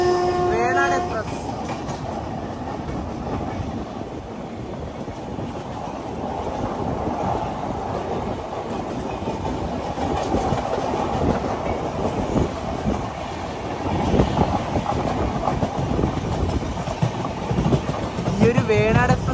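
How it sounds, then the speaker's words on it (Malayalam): The Shoranur–Thiruvananthapuram Venad Express passes close by, a loud continuous rumble of wheels and clattering coaches with a horn near the start and wind buffeting, swelling louder toward the end; a voice talks over it. "ഷൊർണൂർ തിരുവനന്തപുരം വേണാട് എക്സ്പ്രസ്."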